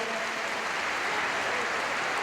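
Steady, dense applause from an indoor tennis crowd at a Paris final rolls on evenly throughout, with no gaps or quiet stretches.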